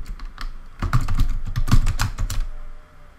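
A code comment is typed on a computer keyboard in a close, clear burst of clattering keystrokes. The typing quickens in the middle and then stops near the end, with no talk.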